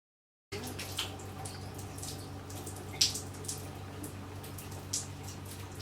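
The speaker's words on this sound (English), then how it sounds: "Wash off any excess shampoo remaining in my hair." Water runs and drips while shampoo is rinsed out of faux locs or box braids, a faint, quiet wash of flow broken by a few soft splashes and droplets, with no voices.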